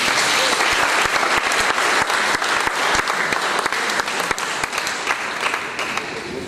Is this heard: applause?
yes